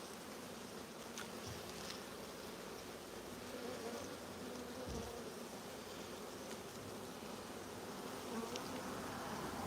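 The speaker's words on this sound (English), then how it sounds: "That's a lot of bees." A swarm of bees drones all around, a continuous close buzzing hum from many insects at once, with occasional louder passes near the listener.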